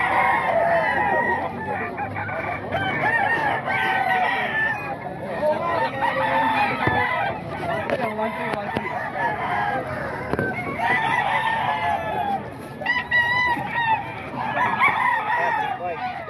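Roosters at a crowded Bocaue tiangge market crow and cluck among other fowl, repeated calls at middling distance over a busy background with voices talking.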